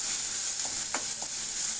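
Ground masala paste for tomato rasam sautés on a low flame with a steady, even hiss and a couple of soft scrapes from stirring.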